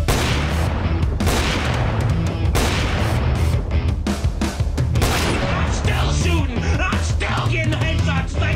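Dense, continuous gunfire in the GTA 5 video game, loud bursts and booms packed together with barely a gap across the whole stretch, sounding like a heavy firefight.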